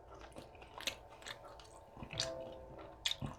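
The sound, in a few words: chewing ribeye steak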